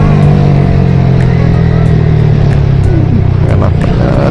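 A Yamaha R15 V4 motorcycle fitted with a Tridente exhaust rides along with a loud, steady engine drone and rushing wind noise, recorded up close by the rider, with faint bits of talk underneath.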